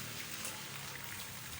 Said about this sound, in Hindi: आज भी मेरे शहर में मुसलसल सुबह से बारिश लगी हुई है